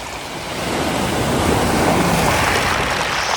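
Loud, continuous surf roars as waves crash and wash onto Dover Beach, with strong wind buffeting the microphone throughout.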